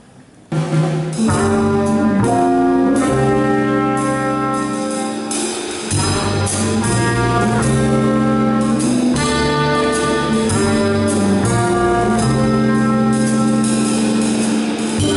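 A conservatory ensemble at an end-of-year recital plays a blues, with full, steady sustained instrumental parts after a short quiet start.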